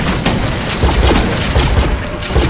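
A grenade blast in the shooter game Defiance, a loud booming burst of broadband noise with rolling low rumbles that continue through the whole stretch, like a chain of explosions close by, with no talk over it.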